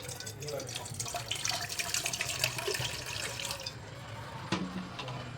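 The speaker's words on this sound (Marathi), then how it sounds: "कुकर लावायचं आहे आता त्यामध्ये पाणी घालायचे आहे" Running water splashes steadily into a pressure cooker, with a faint clink near the end; the flow stays fairly loud and continuous throughout.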